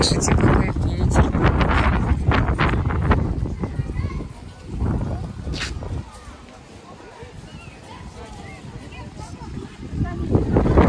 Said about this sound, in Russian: Видите, какой, слышите, какой ветер.